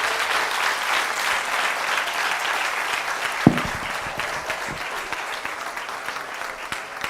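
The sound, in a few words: audience clapping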